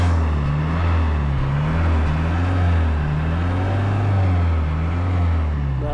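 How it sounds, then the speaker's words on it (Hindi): A Tata Xenon diesel SUV idles at close range, its exhaust giving a deep, steady, throbbing rumble with a slight rhythmic pulse and no talk over it. "मैं आपको इसके बाद इसके थोड़ा सा एग्जॉस्ट सुनाता हूँ आप लोग।"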